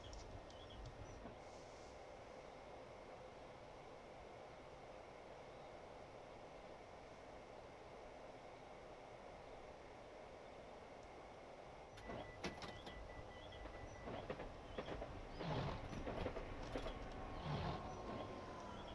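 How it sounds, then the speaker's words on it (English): A train running a service to Ramsgate passes Newington station: a quiet steady hum gives way around the end to a louder rumbling pass with rattles and clatter, with no voices. "There's a service to Ramsgate we just saw going by"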